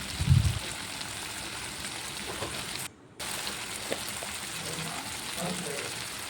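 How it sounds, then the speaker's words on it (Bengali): Small cut potato pieces fry in a pan, giving a steady soft sizzle with a brief dropout partway through, plus a few faint stirring clinks. "কেটে রাখা ছোট ছোট করে আলু দিয়ে দিলাম। আলুটি দিয়ে কিছুক্ষণ ভাজার পর"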